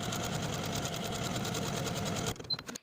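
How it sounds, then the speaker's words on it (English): Domestic sewing machine stitching buttonholes on a shirt placket, a steady fast mechanical whirr running close and loud for over two seconds, then stopping with a few small clicks. "Now I'm going to use the markings that I transferred from my pattern piece to sew buttonholes for the 2 upper"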